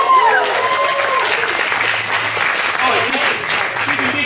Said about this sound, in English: Give a round of applause for the lovely and talented Rayettes.